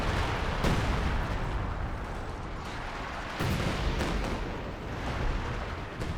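An artillery barrage in the video game Company of Heroes 2, dense rumbling booms and blasts rolling continuously, with several heavier impacts standing out from the din.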